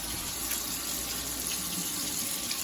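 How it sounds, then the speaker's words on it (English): Tap water runs steadily into a sink as a glass cutting board is washed with dish soap, a close, constant splashing hiss with no voices. "I'm going to put on some more dish soap and just wash it one more time."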